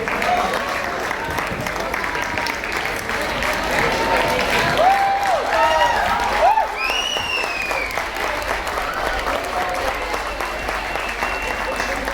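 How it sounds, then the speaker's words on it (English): Sustained audience applause at a school farewell event fills the room steadily and loudly, with crowd murmur and a few high whistles or cheers rising over the clapping. "I would request everyone to please stand up and give us an applause."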